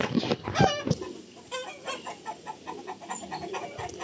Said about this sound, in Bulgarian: О! Бяла кокошка!